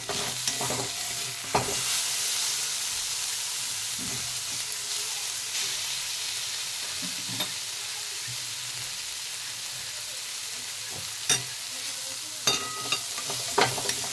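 Fried eggplant with bitter gourd leaves, seasoned with turmeric and sugar, stirred in a pan: a steady close sizzle runs throughout, with sharp spatula scrapes and clinks around the start and several quick ones near the end.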